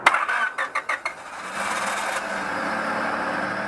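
A Honda Civic with a faulty igniter cranks in a few short bursts, then catches and settles into a steady idle, close and fairly loud with no talk.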